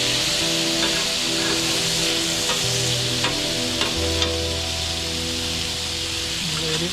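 Steak sizzles steadily on a flat-top griddle, a continuous close frying hiss with occasional small pops and scrapes, no talking.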